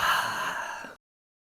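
A single soft exhale of a deep breath, breathy and close, lasts just under a second before cutting off into silence.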